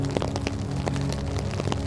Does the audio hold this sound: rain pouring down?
yes